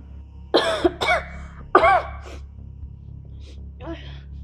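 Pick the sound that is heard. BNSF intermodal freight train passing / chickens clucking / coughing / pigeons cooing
coughing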